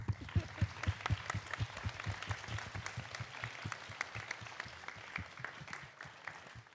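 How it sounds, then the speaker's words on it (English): An audience at a TEDx event gives sustained applause, with many hands clapping in a dense, even patter and some quiet crowd murmur underneath, all at a fairly moderate level. "Please give them a big round of applause."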